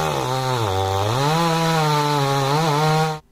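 A loud chainsaw roars continuously, its pitch dipping and rising as it bogs into a cut, then cuts off abruptly at the end.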